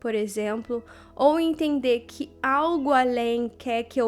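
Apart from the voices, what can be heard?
No distinct noise like a dog, phone or traffic.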